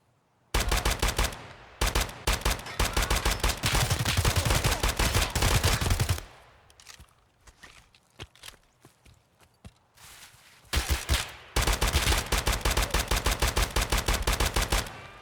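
Automatic gunfire in the Escape from Tarkov shooter game, with loud, close rapid bursts of rounds. Long sustained strings are separated by a quieter gap of scattered single shots, then the firing resumes with heavy sustained bursts.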